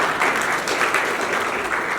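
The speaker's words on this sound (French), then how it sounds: "j'aimerais vraiment que vous applaudissiez massivement." A press-conference crowd at a hotel applauds loudly and continuously, a dense, even wash of many hands clapping close by, with no voices heard over it.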